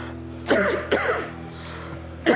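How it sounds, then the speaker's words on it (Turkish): Three separate coughs, close and fairly loud, with short quiet gaps between them. "Ne zamandır öksürüyorsun?"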